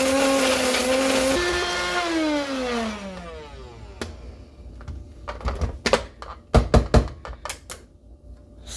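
An electric coffee grinder whines loudly grinding beans to a coarse setting for French press, its motor pitch sliding down as it spins out, followed by rattling clatters and knocks of the machine and grounds.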